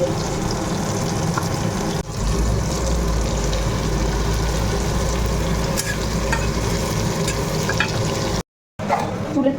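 Tomato, ginger and garlic fry in a pan with a dense, steady sizzle and occasional stirring scrapes, loud and close, a low rumble running under most of it and a brief dropout near the end.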